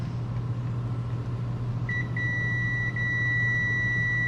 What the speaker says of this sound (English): We're just going to listen for that beep.